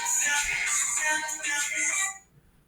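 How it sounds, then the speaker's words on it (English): A mobile phone ringtone plays loud and bright for about two seconds, a busy melodic pattern that cuts off abruptly into quiet room tone. "That was my phone."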